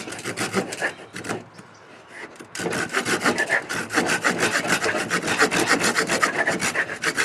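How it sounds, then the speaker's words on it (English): Gerber Sportsman retractable saw cutting a small piece of wood with fast, rhythmic back-and-forth rasping strokes, close and loud, pausing briefly before resuming at a steady pace. "It saws really fast."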